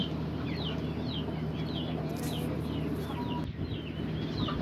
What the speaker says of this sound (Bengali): এই বাহামা মুরগির বাচ্চাগুলো যার বয়স কিনা দুই মাসের কাছাকাছি